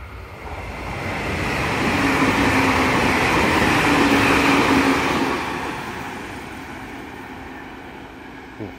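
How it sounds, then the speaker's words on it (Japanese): A train arrives at a station nearby, its rumble swelling to a loud roar midway with a faint squeal, then fading as it slows. "お、列車来ますね。"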